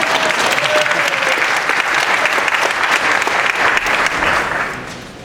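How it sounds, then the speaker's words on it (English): An audience at a neighborhood councils congress in Los Angeles applauds, a loud, dense, sustained crowd clapping that fades near the end. "Now everybody here, give them a mercy applause."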